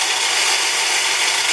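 A CNC mini mill spindle runs at the start of a cutting cycle, giving a loud, steady, hissing mechanical whir with no breaks.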